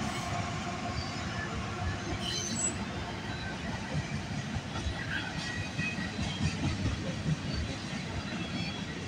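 A CN freight train rumbles past steadily at night with a low, continuous roar and faint rhythmic rail clatter, moderately distant and without a voice over it.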